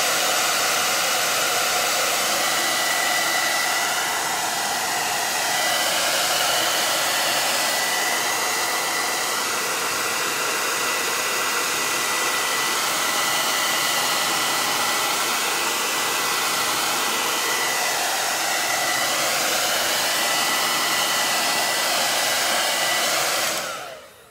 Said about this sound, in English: I'm gonna blow dry this.